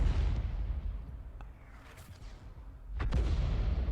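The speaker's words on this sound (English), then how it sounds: "That was the M44 just firing at him there." An M44 self-propelled artillery gun fires in a tank battle video game, giving a dull distant boom near the start and a sharper, louder report about three seconds in, over low battlefield rumble.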